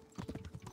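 Horse hooves clip-clop at a walking pace in the medieval video game Kingdom Come: Deliverance, a short, soft run of muffled steps with no talk over them.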